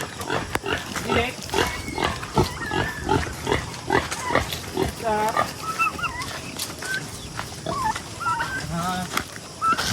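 Pigs grunt as they are fed on a small farm lot shared with chickens and turkeys; close, uneven grunts mix with clucking and gobbling fowl calls throughout.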